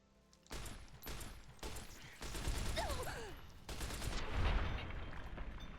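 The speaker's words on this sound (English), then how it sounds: "I can use the submachine gun for this" Submachine gun fire in Fallout New Vegas comes as several loud bursts of rapid automatic shots, broken by short pauses, with a few distorted game sounds mixed in.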